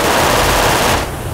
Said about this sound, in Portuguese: o cara deu uma rumaça de tiro pro nosso lado